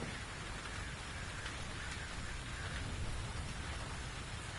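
Steady rainfall in the VR game The Invisible Hours, a soft, even hiss of drops on surfaces with faint hints of distant thunder, continuous and unbroken with no talking.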